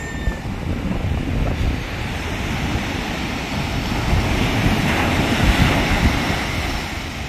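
Steady wash of ocean waves with heavy wind buffeting the microphone, a continuous loud roar that swells slightly toward the end.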